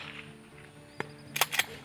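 A shotgun fires at ducks during a retriever dog trial: one sharp report, then a pair of quicker cracks about half a second later, all heard at some distance over steady outdoor background noise.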